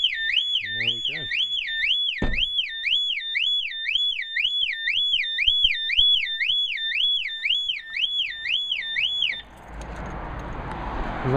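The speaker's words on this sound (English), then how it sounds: "hopefully we'll have the glorious sound of an alarm" A Volvo car alarm (V70, S60 or S80 type) blares a loud, fast-warbling two-tone siren that repeats steadily for about nine seconds, then cuts off abruptly, leaving background noise.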